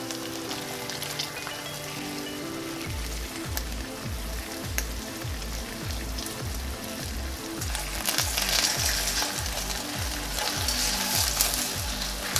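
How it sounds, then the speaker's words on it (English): Oxtail browning in a hot pan, a steady dense sizzle and crackle that holds throughout and grows slightly louder near the end, with a regular low thumping underneath. "Be sure to coat all the sides of the oxtail and give it some time to brown."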